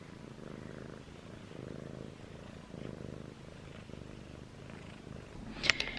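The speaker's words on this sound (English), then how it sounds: "then just curled back up and started purring again" A cat purrs softly and steadily nearby, a low continuous rumble pulsing with each breath, quiet and alone apart from a brief rustle near the end.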